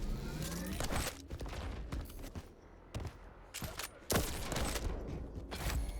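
Railgun shots in a Quake Pro League match fire in sharp, loud cracks at irregular intervals, mixed with game effects and commentary.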